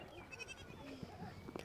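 Goats on a farm bleat close by in a few short, wavering calls, with a person's voice audible at times underneath.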